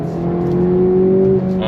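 A 2025 Acura Integra Type S engine pulls under throttle with a steady, rising drone that holds loud and close for over a second before easing off, with a voice faintly present.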